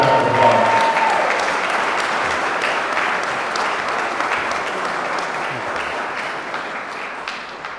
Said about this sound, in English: Thank you, round of applause.